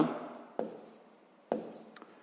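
A pen writes on paper during a fifth-grade maths exercise, giving faint, soft scratching broken by two sharper taps, with no talking.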